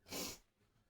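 A single short, sharp sneeze, quick and breathy, followed by faint quiet.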